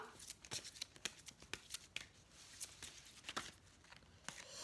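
Angel oracle cards being shuffled, a quiet and steady run of soft flicks and papery slaps repeating every fraction of a second, close by and alone.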